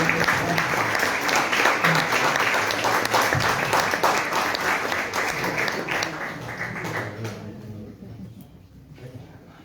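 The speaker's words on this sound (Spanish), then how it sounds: "Vamos a darle un fuerte aplauso" Audience applause for a child flute player at a cultural talk, a steady broad wash of clapping that fills most of the stretch, then thins and fades toward the end.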